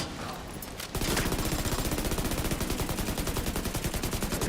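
Sustained automatic gunfire in The Division 2, a steady, rapid stream of loud shots starting after a second and continuing without pause to the end.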